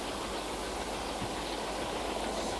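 GWR King class steam locomotive No. 6000 King George V, a 1927 express engine, gives a steady broadband rumble and hiss with no distinct exhaust beats, moderately loud throughout.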